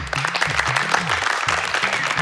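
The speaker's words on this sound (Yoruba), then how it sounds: "Ẹ bá ń pàtẹ́wọ́ fọ́mọ tó gbà wọn" Children at a school quiz show clap together for a classmate, a dense steady round of applause lasting a couple of seconds with a voice speaking over it.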